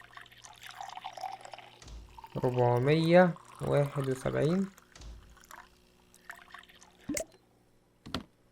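Water pours in the Barista Simulator coffee-shop video game as soft liquid splashing and dripping, under a man's louder speech, with a few sharp clicks near the end.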